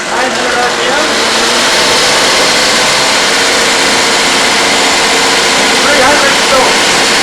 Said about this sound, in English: So, I'll fire it up again. Full fuel, 900 RPM.